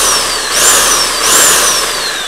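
A Bauer 1643E-B demolition hammer motor runs with no contact, whining loudly up close, its pitch surging up and easing back down twice in a short run, with no talking.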